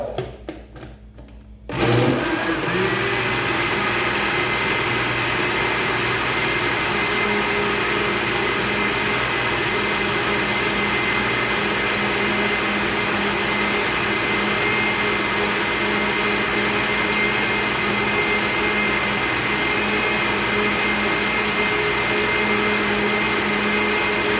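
A blender beating gluten-free, egg-free pancake batter with a spoonful of butter starts up after a brief moment and runs as a loud, steady whirring motor drone without pause.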